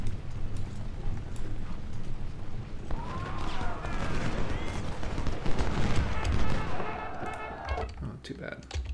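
Rifle volleys crackle in the Civil War strategy game Ultimate General: Civil War, bursts of massed musket fire rolling over a busy battle din, with someone talking over the action.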